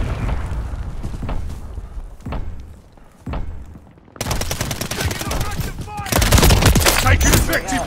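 Automatic weapons and single gunshots ring out in Modern Warfare III, with sparse shots early, then dense rapid bursts and booms that grow louder toward the end, mixed with occasional shouted voices.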